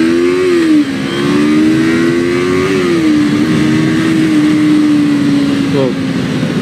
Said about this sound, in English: Look, if I hit the gas right here,